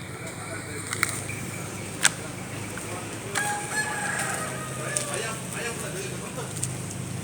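A rooster crows faintly in a busy market in Klang, repeating a few times in the distance amid steady crowd murmur, clatter and scattered voices.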